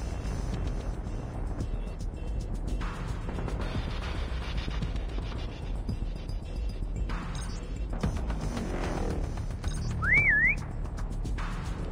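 Whistle signal from a hidden player in a Call of Duty Mobile prop hunt match, a brief rising-and-falling tone near the end over steady game ambience and mechanical background noise.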